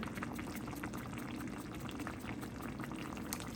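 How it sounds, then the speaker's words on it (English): A pot of homemade chicken and dumplings simmers with a soft, steady bubbling and burbling, close but quiet, with no talking. "just let it cook for a little while, simmer for a little while"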